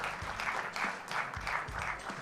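Brief applause from the audience at an education awards event after a giant check presentation, a moderate, steady patter of many hands clapping that sounds somewhat distant and continues without pause.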